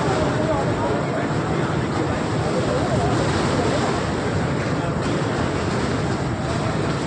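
A rushing, roaring gush of water and cement slurry pours out at a TBM tunnel breakthrough, a dense continuous wash of noise that stays loud throughout.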